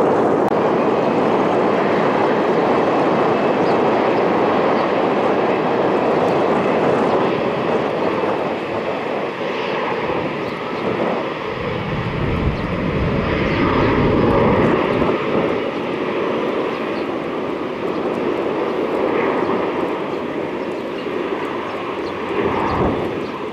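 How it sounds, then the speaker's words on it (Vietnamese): A Gulfstream G650ER private jet takes off from Tan Son Nhat airport with a loud, sustained engine roar that builds and swells for over twenty seconds, heard alone. "Còn bây giờ thì chiếc Gulfstream G650ER đã được lệnh cất cánh rời khỏi sân bay Tân Sơn Nhất."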